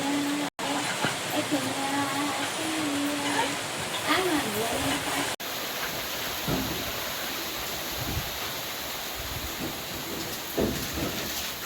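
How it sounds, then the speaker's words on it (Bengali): Steady autumn rain in the Sundarbans, with water pouring and splashing off a roof, a broad continuous wash of sound; a voice is heard briefly early on. "শরতের বৃষ্টি খেয়াল খুশি মতো, এই বৃষ্টি তো এই রৌদ্র। উপর থেকে ছাদের জল গড়িয়ে পড়ছে"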